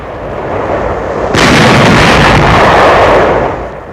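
Gunfire at enemy barges on the Rhine near Düsseldorf in 1945, heard as a loud, dense, sustained roar of firing that swells sharply partway through and fades slightly at the end, with no voices.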